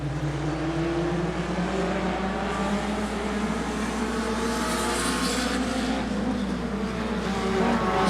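Race cars on a short track, with a steady, continuous engine drone and broad roar throughout as they roll across the stripe and toward the pits, loud and sustained without breaks.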